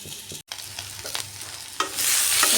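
Potatoes fry in a pan for a vegetarian alur dum, with close scraping stirs over a steady sizzle that swells louder toward the end.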